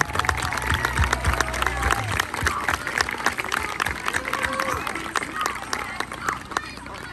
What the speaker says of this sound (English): Let's give one last round of applause for the class of